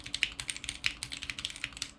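Steady typing on a mechanical RGB keyboard fitted with upgraded hot-swap switches, a quick run of crisp, evenly spaced key clacks about ten per second, close but fairly soft, with no speech.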